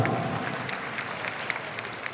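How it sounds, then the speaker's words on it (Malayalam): Audience clapping at a Malayalam film promotion event for Udumbanchola Vision, a steady, dense patter of many hands sustained for about two seconds, moderately loud with no voices. "ഒരു കൈയടി കമാൺ"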